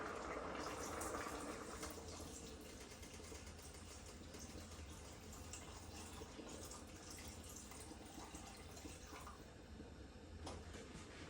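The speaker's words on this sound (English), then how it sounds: "this is the second addition of water that I'm putting in them." Water pours from a tap into a bowl of soaking butter beans, a steady rushing splash heard up close but at low volume, with no talking.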